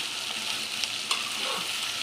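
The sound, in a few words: vegetables stirred and frying in a pan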